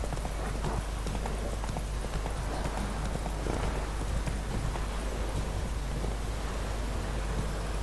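A horse's hooves clip-clop steadily in The Witcher 3 video game, a continuous rhythmic trot beneath a constant wash of wind or rain ambience.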